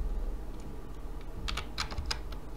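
A code is typed on a computer keyboard: a short burst of crisp keystroke clicks clustered near the end, close but moderately quiet over a steady low hum, with no talking.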